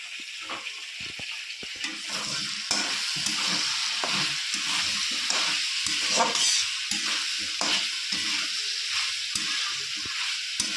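Vegetables with chopped green chilli and garlic sizzle and fry in a pan, stirred with repeated scraping strokes over a steady hiss that grows louder partway through.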